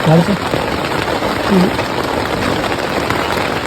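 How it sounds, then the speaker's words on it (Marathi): Heavy rain pounds steadily on a leaking tent during night camping, a dense continuous hiss close around, with people talking under it. "पूर्ण पाऊस जोरदार चालू झालाय बाहेर आणि टेंट पूर्ण लीक झाला"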